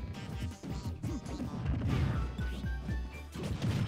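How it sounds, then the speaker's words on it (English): Little Mac lands a forward smash in Super Smash Bros, a heavy punching impact amid busy game sounds, crashes and thuds layered through a few seconds of match action. "Oh, he just F smashed him."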